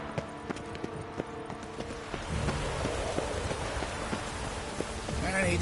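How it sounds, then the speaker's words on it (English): Rain falls steadily in The Witcher 3, a continuous hiss that swells louder partway through, with a few faint clopping hoofbeats of a horse underneath. "And it's raining again."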